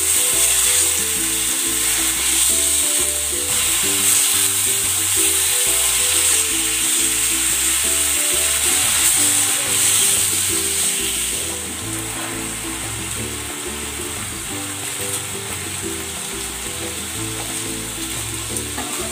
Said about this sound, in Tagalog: Maglalagay ako ng konting cooking oil. Ipan-grill ko muna itong pork.